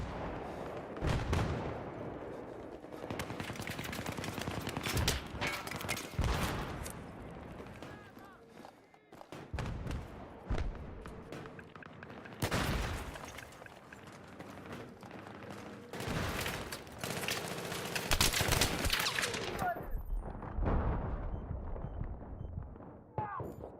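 Grenade explosions and gunfire in Battlefield 3 on PS3: repeated sharp blasts and cracking shots, some close and loud, others more distant, scattered irregularly across a busy battlefield din.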